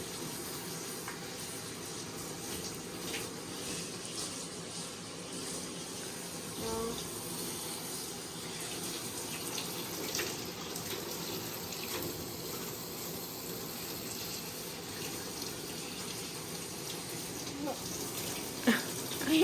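Tap water runs steadily into a basin or tub while a Siberian husky puppy is bathed, a continuous close splashing gush with someone talking softly over it.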